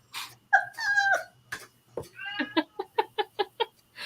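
A house cat makes a series of close, quiet mews and chirps, first a drawn-out cry and then a quick run of short yips.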